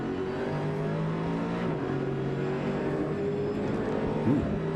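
Onboard a number 60 race car at the 2008 Rolex 24 at Daytona endurance race, a loud, steady engine drone holds throughout with shifting pitch as the car accelerates, with no voices heard.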